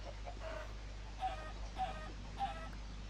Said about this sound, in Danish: Der er sgu mange kyllinger her